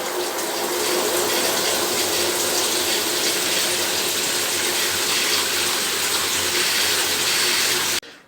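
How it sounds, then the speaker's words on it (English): Water gushes steadily from a tap into a bucket, a loud constant rushing pour of cold water that cuts off abruptly at the end. "fill that bucket up with cold water only"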